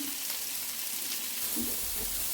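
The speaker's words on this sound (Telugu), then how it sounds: "ఇప్పుడు ఇవన్నీ ఒక 30 సెకండ్స్ ఫ్రై చేసుకోవాలి" Shredded cabbage, capsicum and garlic frying in a hot pan for hakka noodles, a steady hissing sizzle throughout with a soft stir near the end, close and continuous.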